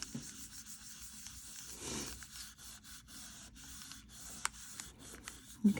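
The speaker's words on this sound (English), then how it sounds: "I just have a piece of cardstock here. And I'm just going to lightly rub the top until I get everything nice and smooth." A piece of cardstock is rubbed lightly over polymer clay beads to smooth them, producing soft, close scraping and rubbing strokes that come in short intermittent passes with faint taps.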